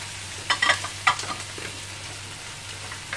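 Peppers hitting a hot pan of frying fish for a fish paella, giving a few short crackling sizzle bursts near the start, then a softer steady frying hiss.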